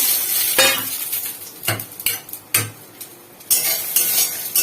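Bori lentil dumplings fry in oil as a spatula stirs them, with bursts of sizzling and crackling broken by clattering metal scrapes and knocks against the pan, close and fairly loud, no talking.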